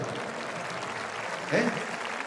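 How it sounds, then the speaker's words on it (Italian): Applause from a large audience gathered in Rome, a dense wash of clapping that runs throughout at moderate level, with a voice briefly speaking over it. "diamo un applauso"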